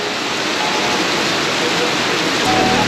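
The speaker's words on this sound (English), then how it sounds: "I mean, it is a storm." Heavy rainstorm pouring steadily outdoors, a dense continuous wash of falling water drumming on a parked car and truck, loud and unbroken throughout.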